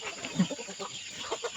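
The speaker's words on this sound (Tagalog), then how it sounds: "Oh, may chicken na siya." Chickens on a small farm give soft, scattered clucks and short calls, a few quick notes close by but fairly quiet.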